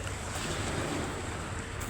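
Surf rolls steadily onto a white-sand beach at Boracay, a continuous broadband wash of waves with a low rumble of water and some wind across the microphone, no voices.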